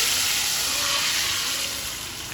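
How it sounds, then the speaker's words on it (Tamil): Tamarind and tomato water hits hot mustard seeds and dried chillies for rasam, giving a loud, steady steamy hiss and sizzle that fades slightly as the liquid settles. "நம்ம கரைச்சி வச்சுருக்கிற புளி தக்காளி தண்ணியை ஊற்றிடலாம்"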